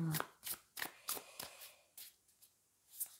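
A Wild Unknown tarot deck is shuffled by hand, producing crisp riffling bursts about twice a second that grow sparser toward the end. The shuffling is close and fairly soft.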